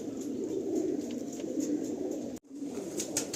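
Ablook pigeons coo steadily in a crowded loft of a large flock, a dense close chorus of low throaty murmurs that continues throughout with only a brief pause.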